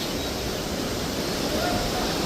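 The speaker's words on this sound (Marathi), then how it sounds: "किती किती म्हणजे प्रेशर आहे नदीमध्ये बघा. किती हे जोरात चाललंय एकदम." Fast river with a strong current beside hot springs on the Kedarnath trek, a loud, dense, unbroken roar of rushing water filling the whole moment.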